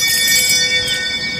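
A bell found in a forest rings out bright and loud, its shimmering metallic overtones sustaining and slowly decaying across the moment, with no voice over it.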